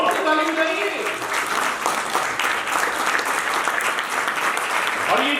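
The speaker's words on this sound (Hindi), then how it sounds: "हमारी तो जोर से ताली बजाइए" A live audience claps steadily and loudly at a speech by the Governor of Uttarakhand at Ramtirtha Kendra, with dense continuous applause across the whole stretch and a voice briefly heard.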